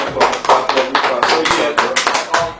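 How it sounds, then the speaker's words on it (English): A few hands clap in quick, uneven bursts close by, a small informal round of applause with sharp individual claps and brief pauses between them. "round of applause for me"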